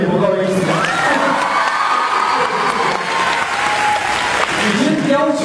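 Audience applause and cheering fill a college auditorium hall at a celebrity stage event, a loud continuous wave of clapping with shouts and whoops rising from the crowd.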